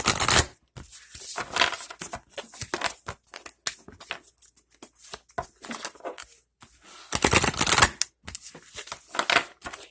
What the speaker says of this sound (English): I'm going to shuffle a couple times here.